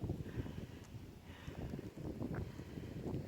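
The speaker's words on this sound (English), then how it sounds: "It's pretty windy." Gusty wind buffets the microphone outdoors in open country near the Humboldt River, a faint, continuous low rumble rising and falling without any voices.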